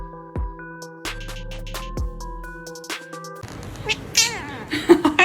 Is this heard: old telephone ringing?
no